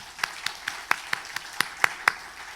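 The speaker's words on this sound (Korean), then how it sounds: "우리 감사의 박수 한번 할까요?" Sparse clapping from a church congregation, about nine separate claps spread unevenly across a few seconds, fairly quiet against a faint room background.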